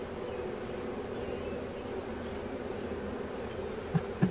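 Honey bees swarm around a trap box, making a steady, dense, close buzzing drone throughout, with a couple of faint knocks near the end.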